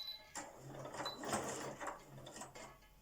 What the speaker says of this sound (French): Vous allez faire une marche arrière sur 1 cm jusqu'au bord de votre tissu et puis vous continuez à coudre.